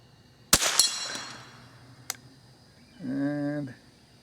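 A Marlin Model 60 rifle fires a single sharp shot that pings off a metal squirrel target at a distance, followed by a faint click and a brief voice.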